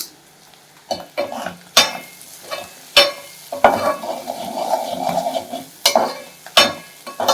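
A pan sizzles and crackles as curry leaves fry, with a utensil repeatedly scraping and clinking against the metal, up close.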